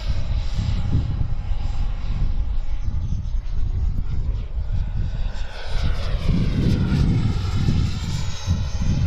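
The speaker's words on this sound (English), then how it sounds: "Probably has one of the best sounds, if you're able to hear it with my mic, of any EDF out there" Continuous roaring whoosh of an FMS 80mm F-86 RC electric ducted fan jet flying, with a rumbling low end and whining tones that shift as it passes, steady and fairly loud.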